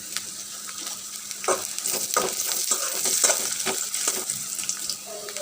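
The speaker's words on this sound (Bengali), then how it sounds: "দেখেন রসুন আর পেঁয়াজটা আমি অনেক সুন্দর করে ভেজে নিয়েছি।" Chopped garlic and onion fry in hot oil with a bay leaf, a steady close sizzle with repeated stirring scrapes and a brief tap-water sound, no talking.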